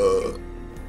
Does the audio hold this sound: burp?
yes